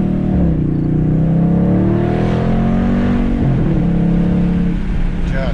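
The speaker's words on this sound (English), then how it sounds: "Acceleration test, exhaust." A 2019 Dodge Charger SRT 392 Scat Pack accelerates hard from inside the cabin, its V8 exhaust roaring loud and steady as the revs climb, with a gear change partway through.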